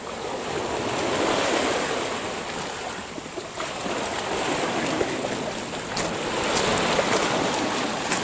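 Small waves wash and break steadily on a shore, a continuous rolling surf with wind buffeting the microphone throughout and no voices.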